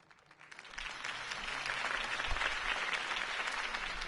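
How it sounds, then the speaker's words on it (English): A crowd applauds after a campaign speech in the Batman Telltale video game: a thick, steady wash of many clapping hands swells in quickly and holds loud to the end, with no voices over it. "If only Mr. Wayne, my campaign's largest backer, could have heard that applause"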